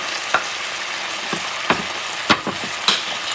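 Peppers and onions fry in a pan for pepper steak, a steady sizzle broken by a few sharp clinks and scrapes of stirring, with no talking.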